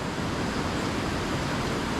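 Wild, fast stream water rushes on Dartmoor, a steady, loud, broadband roar that fills the scene without pause.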